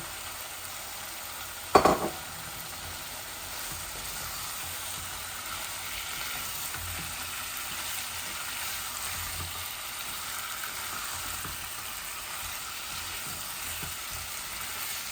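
Potatoes hit a hot pan of chicken for a spiced Bangladeshi chicken-and-potato bhuna, a brief clatter near the start giving way to a steady, even frying sizzle that continues alone.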